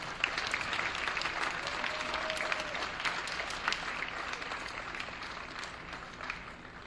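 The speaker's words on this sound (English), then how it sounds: "Again, let's give our seniors one more round of applause." Spectators at a high school varsity wrestling meet clap for the senior wrestlers, a broad steady round of applause from a sizable crowd in a gym, sustained for several seconds and gradually thinning.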